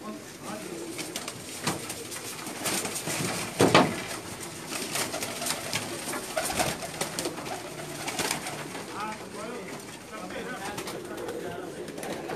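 Pakistani pigeons coo on a rooftop loft in Jeddah, Saudi Arabia, giving soft, repeated throaty calls among steady ambient noise, with a brief flutter or thump near the middle.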